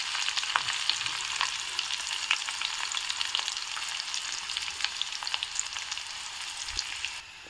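Mustard seeds, chopped onion, curry leaves and dried red chillies crackle and sizzle in hot oil, a steady close frying hiss dotted with sharp pops and spits, alone without voices.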